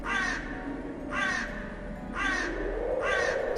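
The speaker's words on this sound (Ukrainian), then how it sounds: "На тину стояв крук і кричав від холоду." A raven caws four times in slow, evenly spaced harsh calls on a cold day of hail and snow, each call clear and fairly close over a low steady background hum.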